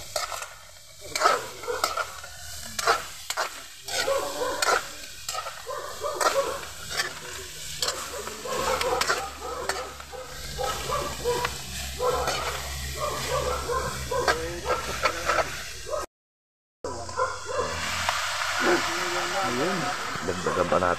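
Pork intestines sizzle and fry in a pan for adobo, a steady crackle under frequent stirring and scraping, while people talk nearby and a dog barks now and then; the sound cuts out briefly near the end.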